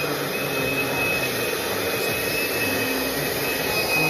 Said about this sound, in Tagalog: lalo na yung blower na napupunta sa skin ko